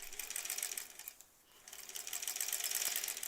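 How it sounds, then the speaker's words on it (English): Sewing machine stitching quilt pieces together during improvised piecing of a quilt back, a steady fast whirring run that pauses briefly mid-way, then resumes close and continuous. "We're just sewing pieces to pieces, and we're making it bigger and bigger."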